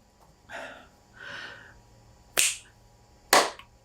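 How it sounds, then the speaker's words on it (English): Two sharp, crisp claps about a second apart, preceded by a couple of soft breathy sounds in an otherwise quiet room. "I'm going to clap my hands because then I see the audio waveform."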